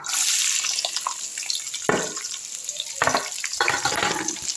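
Shallots tipped into hot oil with fried fennel seeds in a pan for a chicken fry, giving a loud steady sizzle with bursts of stirring and clatter, no talk.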